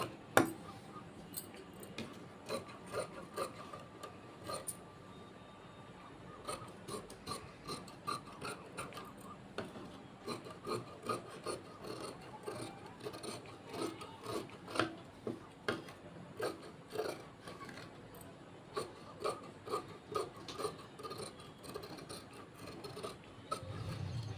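Scissors cut blouse fabric on a tailoring table, a steady run of soft rasping snips and rubbing strokes that repeats rhythmically and close by, with no voices over it.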